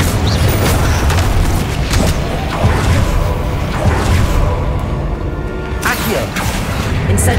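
Fire spell cast in the Hogwarts Legacy video game: a dense, steady roaring burst of flame with whooshing edges, loud and continuous, mixed with heavy low rumble from combat effects.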